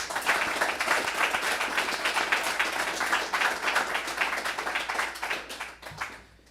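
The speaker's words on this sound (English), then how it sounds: "So, round of applause for Andrea." A crowd at an executive protection training class claps and applauds steadily for several seconds, the clapping thinning out and fading at the end.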